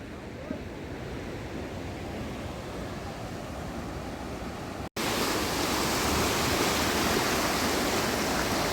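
Strong rushing flow of the Ganga river at Haridwar in Uttarakhand after a flood, a dense steady roar of fast water that jumps louder midway, as if moving closer to the bank.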